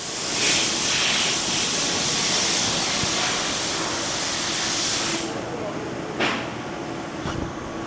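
An actuator valve is opened and air hisses out in a loud, steady rush for several seconds before cutting off abruptly, followed by a couple of brief mechanical clicks.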